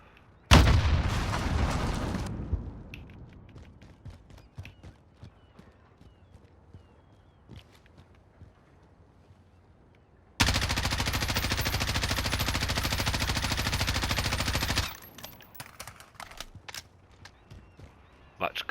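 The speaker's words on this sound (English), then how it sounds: "Now let's try that same long-distance shooting with the high recoil control setup." M4/M13 automatic rifle fire in the Warzone video game with a high recoil control setup: two loud, sustained bursts, one short and one lasting several seconds, separated by quieter stretches.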